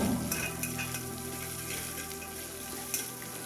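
Spices for sambar tempering in hot oil: steady oily sizzling and crackling, continuous throughout with a couple of sharper pops, no talking.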